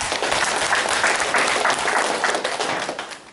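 Lecture audience at a provincial government hall in Gyeongbuk breaking into dense, steady applause that holds strong and then tapers off toward the end.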